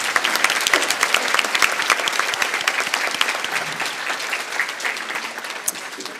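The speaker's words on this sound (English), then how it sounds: "Can we please give a final round of applause to this group of nominees?" Sustained applause from an awards ceremony crowd honoring nominees for the ATHENA Award 2017, dense and loud, many hands clapping steadily for several seconds with no speech.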